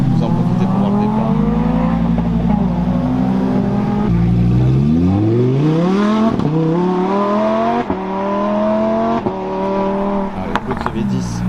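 Race cars, including a Lamborghini Huracán STO, rev and pull away at the start of a car event, several engines rising and falling in pitch, loud and close, with a voice talking over them.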